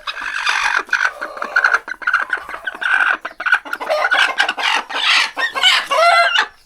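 A broody hen on a farm clucks and grumbles close up in repeated rasping, uneven bursts, loud and continuous.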